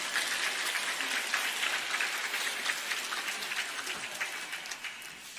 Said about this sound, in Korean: 제가 설교하러 나올 때마다 여러분이 박수를 쳐주셔서 제가 어찌 할 바를 모르겠습니다.